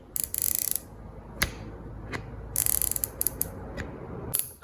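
Firm, tactile clicks from the turret of a Vector Optics Orion Pro MAX 5-30x56 FFP rifle scope being turned, sounding in several quick ratcheting bursts with single sharp clicks between them, close and clear with no talking.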